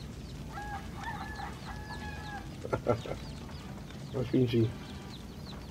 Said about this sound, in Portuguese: Olha os pintinhos subindo.